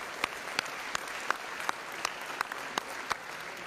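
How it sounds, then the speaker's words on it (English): Audience at a high school football game event claps steadily, with distinct louder claps standing out at a regular pace over a faint, diffuse patter, moderately distant and without voices. "Please give them a round of applause for supporting this."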